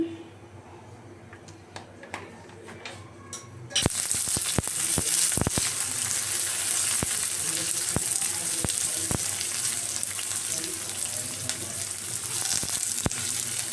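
Onion, green chillies, dried red chillies, bay leaf and chopped garlic hit hot oil for mixed vegetable bhaji, bursting into a loud, steady close sizzle with sharp crackles and occasional stirring clicks after a quieter start.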